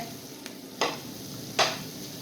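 Onions and green chillies sizzle steadily in a pan as a spatula scrapes through them twice in quick strokes, with nobody speaking.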